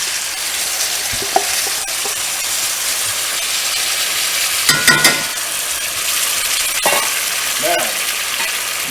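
Pork tenderloin in a honey sauce sizzling hard in a hot pan, a loud continuous frying hiss with a few clinks and bubbling pops, no talking.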